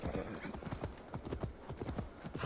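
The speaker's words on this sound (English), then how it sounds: "Donkey." Donkey hooves clip-clopping steadily in Assassin's Creed Valhalla, a close, rhythmic run of hoof strikes throughout, with faint voices in the background.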